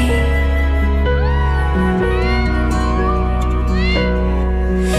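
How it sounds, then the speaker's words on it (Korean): A cat meows several times, drawn-out rising and falling cries over a steady background of music or tonal hum. "그 옆엔 고양이"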